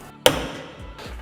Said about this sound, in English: I'll center punch it first